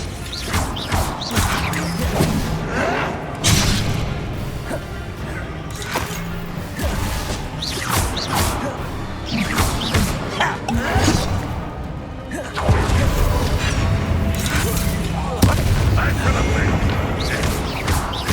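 Confringo fire spells in Hogwarts Legacy burst repeatedly in loud explosive crashes, thuds and whooshes over a busy combat soundscape, with voices speaking intermittently.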